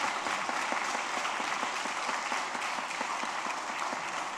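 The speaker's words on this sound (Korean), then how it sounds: "박수 한번 부탁드립니다." A church congregation applauds Korean War and Vietnam War veterans at a Sunday service, a dense steady round of clapping from a large indoor crowd lasting throughout.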